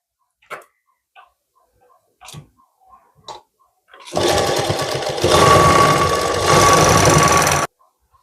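Sewing machine stitching a blouse sleeve: a few soft clicks and taps, then a loud steady whirring run of stitching lasting several seconds before stopping abruptly, close up with no talking.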